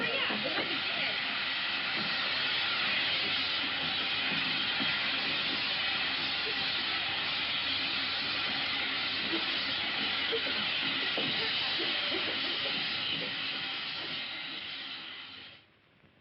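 A loud, steady hiss of steam in a steam room pours out without a break for several seconds, then tapers and cuts off near the end.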